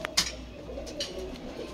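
A dabe-wale pigeon offered for sale gives soft, low cooing close by, with a couple of sharp brief clicks and faint chirps over quiet background.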